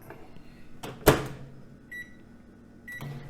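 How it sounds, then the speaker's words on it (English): A microwave oven cooking a pork roast hums faintly and steadily, broken by a sharp click and a short, soft beep-like tone partway through. "we're gonna pop that in the microwave for about 5 minutes"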